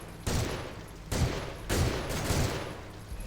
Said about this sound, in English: Shoot it a couple times.